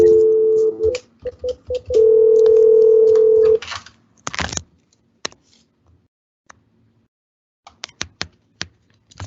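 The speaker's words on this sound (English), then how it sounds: "Let's just make a phone call." A landline telephone dial tone hums steadily at the start of a phone call, broken once and then holding for a couple of seconds before cutting off, followed by quiet clicks and handling taps.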